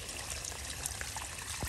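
Water draining and trickling down the dirt trails of a bike park under construction, a steady close pouring and dribbling wash that fills the whole moment without pause.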